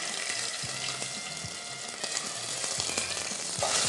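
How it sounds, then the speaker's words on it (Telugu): Whole garam masala sizzles steadily in hot oil, a dense continuous frying hiss with a few light clicks and stirring knocks, close and fairly loud throughout. "ఇప్పుడు ఆయిల్ వేడైంది. హోల్ గరం మసాలా వేసాం."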